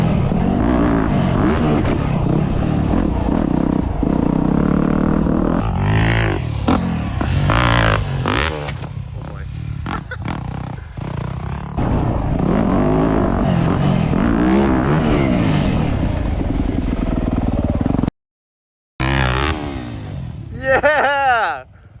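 Dirt bike ridden around a real supercross track, its engine revving and bogging in loud close bursts with clattering and throttle surges, while a rider talks and shouts over it.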